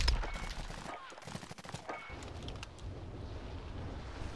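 BX1 submachine gun fire in Warzone, a dense run of sharp cracking shots with wind-like rushing noise beneath, fairly loud throughout.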